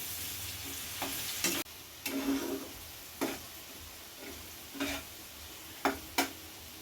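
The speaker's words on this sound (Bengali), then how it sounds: "পেঁয়াজগুলোকে হালকাভাবে ভেজে নেব মিনিট দু তিনেক" Chopped onions frying lightly in a pan for dahi chicken, a soft steady sizzle with several sharp stirring scrapes and taps spaced through it, close and moderately quiet, no voices.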